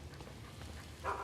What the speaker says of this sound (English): You can hear it barking in the background.